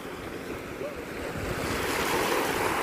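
Sea waves surge onto the shore at the seaside, a steady, full wash of surf that builds and grows louder over the second half, with wind noise on the microphone and no speech.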